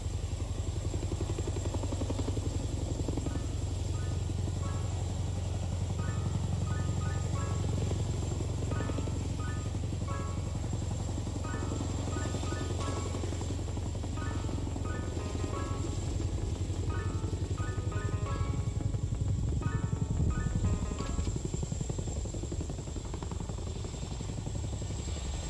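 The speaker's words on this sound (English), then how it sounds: "And now you can see both the Chinooks are facing each other" Chinook helicopters in an Indian Air Force Day aerial display over Sukhna Lake, Chandigarh: a continuous, loud, heavy rotor thrum and engine drone that holds steady throughout, with a faint rhythmic blade chop.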